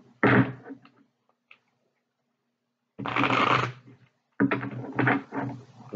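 Tarot cards are shuffled in three short, crisp riffling bursts, separated by stretches of near silence.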